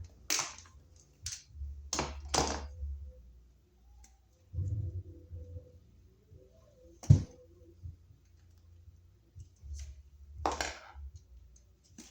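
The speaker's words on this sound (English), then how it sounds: "So we'll cut our number 12 solid here." Number 12 solid copper wire being cut gives a few sharp close snips and clicks spread across the clip, separated by quiet handling sounds and soft rustles.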